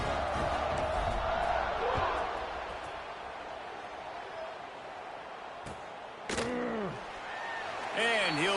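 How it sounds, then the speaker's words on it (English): Stadium crowd noise from NCAA College Football 26, a steady broad murmur of many voices at moderate loudness with a few brief sharp hits and bursts near the end, under a commentator's voice. "this crowd is buzzing after that last score"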